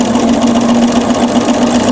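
A sewing machine stitching a feather design on a quilt, a loud, steady mechanical hum with a fast, even stitching rhythm running close by without pause or talk.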